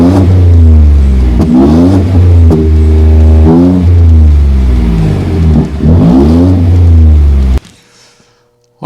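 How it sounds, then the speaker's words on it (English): A loud Ford F-150 Tremor exhaust with a MagnaFlow performance muffler revs repeatedly, its deep rumble rising and falling in several pulls before cutting off abruptly near the end. "You can already hear the sound difference on the exhaust."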